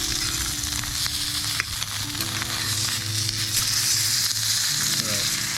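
Oregon mountain trout fries skin-side down in a pan, giving a steady loud sizzle and crackle throughout with faint background tones.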